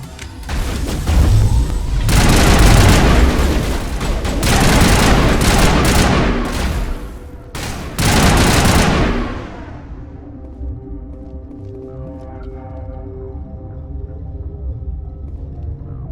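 Sustained gunfire from a firefight in the video game Mass Effect: dense bursts of loud automatic shots and booms for about nine seconds, then fading into quieter tonal music and ambience.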